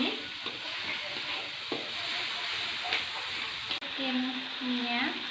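Spring onions stir-fry in a hot pan, a dense close sizzle and hiss with scraping stirs and a few soft clinks of a utensil, steady throughout with no talking.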